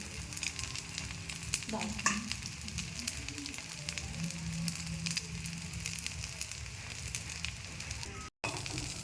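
An egg sizzles and fries steadily in a pan, with a continuous close crackling hiss and a brief stir or scrape near the start.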